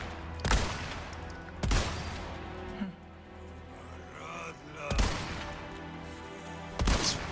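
Scattered gunshots in Resident Evil 4 Remake, Separate Ways mode: four loud, sharp reports spaced a second or more apart over a steady game backdrop, with a voice speaking between the shots.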